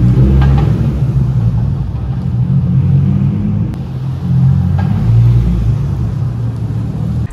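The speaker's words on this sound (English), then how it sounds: "from the outside, you could just hear a lot of chatter coming from the transmission" Noisy transmission on a 2008 Nissan 350Z HR, a continuous low rumbling drone with rattly mechanical chatter running steadily throughout, close and fairly loud with no talking.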